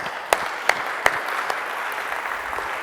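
An audience at a tech conference applauds, a dense and steady wash of clapping with a few sharper individual claps standing out near the start.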